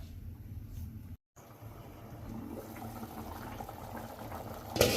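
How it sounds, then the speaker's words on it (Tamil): Potato kurma simmers in a covered pot, a soft, low bubbling hum that stays steady with one brief dropout and ends with a small clink near the close. "மூடி வச்சுருவோம். நல்லா கொதிக்கட்டும்"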